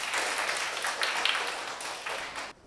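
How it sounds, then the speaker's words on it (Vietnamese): Pupils in a fifth-grade classroom clap together in a dense, even burst of applause that fades out at the end. "Cô mời các bạn thưởng cho bạn một tràng vỗ tay nào."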